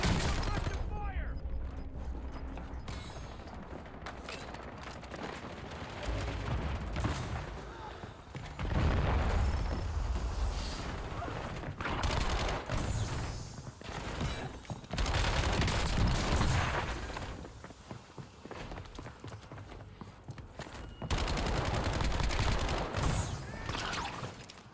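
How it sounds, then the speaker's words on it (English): An enemy precision airstrike in a shooter video game brings repeated heavy booms and dense gunfire-like blasts in several loud waves, mixed with game voice callouts and background action throughout. "Enemy precision airstrike."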